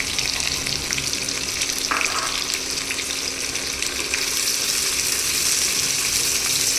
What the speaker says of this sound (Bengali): এই পেঁয়াজটা আমি তেলের মধ্যে দিয়ে দিচ্ছি খুব ভালো করে ভেজে নেবো পেঁয়াজটাকে